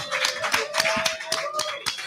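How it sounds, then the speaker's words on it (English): Clapping at a crowded 2024 NFL Draft party at SportsZone Chicago, a handful of sharp, separate claps in loose rhythm, near and fairly loud, with a sustained tone and room chatter running underneath. "Give me a round of applause"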